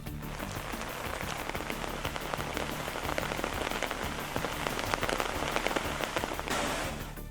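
Heavy rain pours down steadily in Kanyakumari district, a dense, loud hiss of drops drumming on surfaces with no break and no voices.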